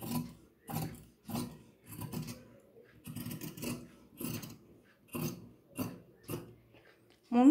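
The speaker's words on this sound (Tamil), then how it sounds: "இந்த மாதிரி நீ இந்த முன் கழுத்தை கட் பண்ணிடலாம்." Scissors cut through churidar dress fabric to shape a front neckline, making soft, rhythmic rasping snips repeated about a dozen times, close and moderately quiet, with no talking.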